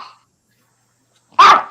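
A single short, sharp bark from a dog close by, following a brief faint sound and then silence.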